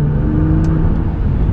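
A 2015 Nissan GT-R Premium surges forward after a downshift, giving a loud, steady engine rumble with a low drone throughout this short burst.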